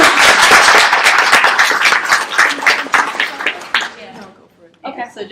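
Audience applause for a panelist at the Worldcon 75 science fiction convention in 2017, loud dense clapping that fades out near the end before a voice begins speaking.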